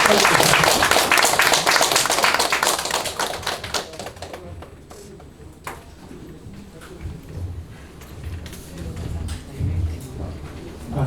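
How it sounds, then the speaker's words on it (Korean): A crowd applauds loudly, dense clapping that fades over several seconds into scattered claps and quiet room noise. "박수!"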